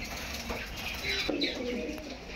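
Soft cooing from a male Sabja pigeon in a loft collection, a few low murmuring coos rising midway amid faint background bird calls, no talking.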